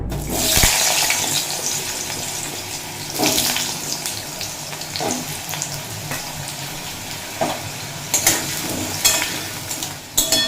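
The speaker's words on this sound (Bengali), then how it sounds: "তেল ভালো মতো গরম হয়ে গেছে এই তেলেই ভেজে নেব আলু" Potatoes fry in hot mustard oil in a pan, a loud steady sizzle and crackle with several sharper bursts, probably from stirring, spread across the whole stretch.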